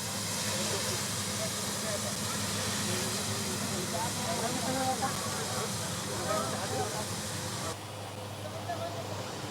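A steam locomotive hisses at a siding in Eritrea, a constant broad steam roar with a low rumble beneath it, while a narrator talks over it.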